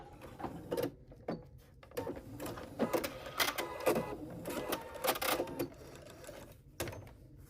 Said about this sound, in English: And we're going to stop 1/4 inch from the end and back stitch.